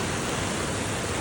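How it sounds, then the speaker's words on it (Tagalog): Fast-flowing rainwater rushes during heavy rain in Japan, a loud, dense, steady broadband hiss and splash close by with no pauses or voices. "Ayan ang bilis ng tubig."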